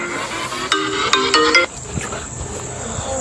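A phone rings with an incoming call, a bright repeating melodic ringtone pattern that stops abruptly, followed by quieter background noise.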